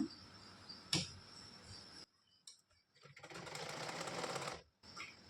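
An electric sewing machine stitches fabric for a hair scrunchie, with a short whir early on and then a longer steady run that stops abruptly and starts again. The machine sounds fairly quiet and close against a faint background hum.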